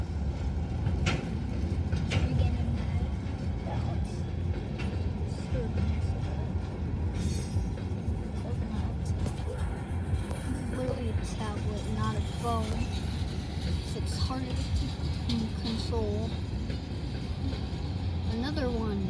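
A long CSX coal train of hopper cars rolls past in Riverview, Florida, a loud continuous rumble with clanking and wheel squeal, close by, with a person talking faintly over it.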